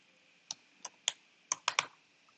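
Several quick, crisp clicks from keys on a computer keyboard, spaced unevenly across a couple of seconds, close and fairly quiet with no talking.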